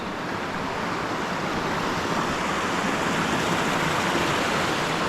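Steady broadband rush of a stream flowing at Spruce Flats along a backcountry trail, a full, continuous wash of moving water heard close and alone with no voices.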